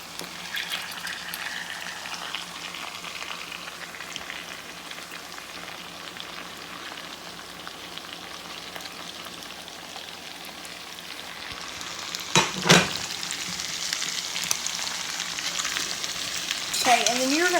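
Jambalaya ingredients fry and sizzle in a pan while being stirred, a constant crackling hiss with occasional scraping clatters of the spoon near the end.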